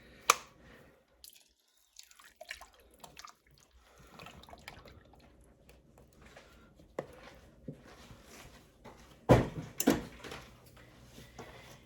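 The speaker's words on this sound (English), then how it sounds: "So let me add my heavy cream." Two cups of heavy cream poured into a pot of Zuppa Toscana soup make soft, intermittent liquid splashes and drips, quiet at first and then building to a brief, louder glugging pour near the end.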